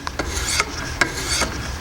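A Jende Reed knife blade stroked against the abrasive stones of a Wicked Edge sharpener: four light, evenly spaced rasping scrapes, each a short gritty rub, close and clear with no talk.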